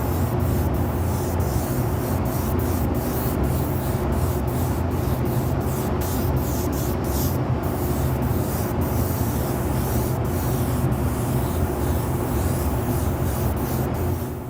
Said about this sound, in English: now we apply white to get coverage.